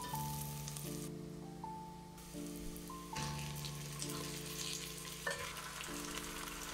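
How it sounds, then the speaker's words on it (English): Marinated mutton frying over high heat with caramelized onions while being stirred, a quiet, steady sizzle with occasional stirring scrapes, under background music. "Stir the meat well, cooking it over high heat for 10 minutes to seal in the juices"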